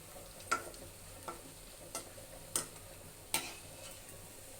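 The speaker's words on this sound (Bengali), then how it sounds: "এভাবে আমি বড়াগুলো তুলে নিব মানে বড়াগুলো হয়ে গেছে" Palm fruit fritters are lifted out of hot frying oil. Five or six sharp, evenly spaced taps of a utensil ring out over a faint, steady sizzle.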